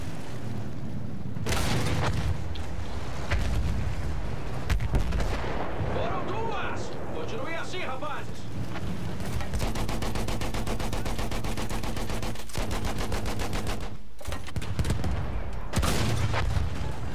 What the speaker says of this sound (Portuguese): Arma de artilharia bem ali.